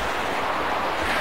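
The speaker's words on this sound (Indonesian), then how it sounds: "Wah, ombak besar." Big sea waves rolling onto a rocky shoreline, a continuous broad wash of surf mixed with wind rumble, steady and fairly close, with no voices.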